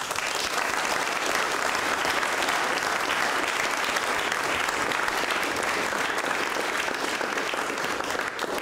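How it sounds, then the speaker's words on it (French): An audience in a vocal coaching session applauds steadily and densely for the whole stretch, a continuous close wash of many hands clapping without a break. "applaudissez-vous. Allez-y."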